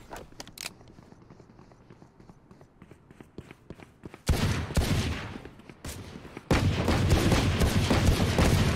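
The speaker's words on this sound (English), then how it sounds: "Just shoot through that thing." Gunfire in the game Valorant, a few sharp shots and footsteps at first, then two loud, sustained bursts of rapid fire filling the scene, with players talking over the action.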